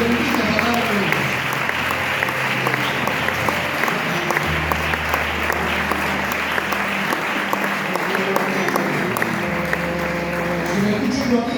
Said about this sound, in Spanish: Dale un fuerte aplauso a la hermosa y bendita palabra de Dios.